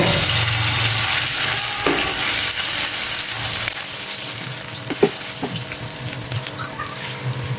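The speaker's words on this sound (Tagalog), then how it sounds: "dahil mainit na yung oil natin, Yan, umpisa na natin ang ating chicken" Chicken pieces frying in hot oil in a home kitchen: a loud, continuous close sizzle and crackle throughout, with occasional faint clacks of a utensil and no talking.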